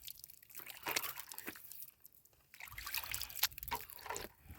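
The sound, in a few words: small stream of hill water trickling among rocks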